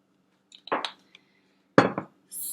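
A large sauté pan handled on a stovetop with a tablespoon of olive oil, giving a few separate metallic clinks and knocks with quiet gaps, then a brief steady hiss at the end.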